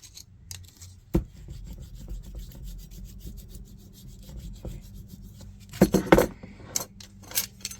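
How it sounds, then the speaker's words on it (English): A hammer's edge presses and flattens a miniature aluminum steam table pan for a dollhouse, giving soft close rubbing and scraping with a few sharp taps and light metallic clatters toward the end. "I'm just going to use the hammer's edge and kind of flatten that out a little"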